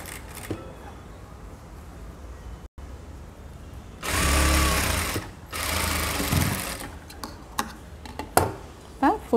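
A sewing machine stitches straight seams on a halter collar neck blouse, running in two bursts of steady whirring with clicks and handling noises between them under quiet room sound.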